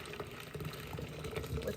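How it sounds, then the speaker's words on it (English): Water pours into an electric tea kettle jug, a steady, close filling rush with soft splashing throughout. "fill up my jug"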